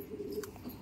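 A pigeon coos once, soft and low, in a brief moment from a pigeon sale among other birds.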